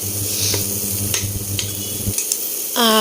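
Food fries with spices and salt in a pan: a continuous sizzle with a low steady hum and several short stirring scrapes, then a high warbling whistle near the end.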